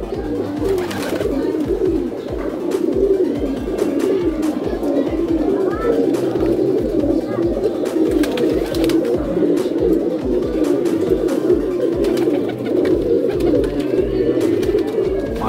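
Many high-flying pigeons coo continuously in a low, murmuring chorus, close by, with occasional wing flutters and faint voices in the background.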